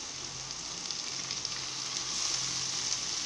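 Small dried fish frying with onions, a soft steady sizzle with faint stirring, close and fairly quiet, rising slightly toward the end.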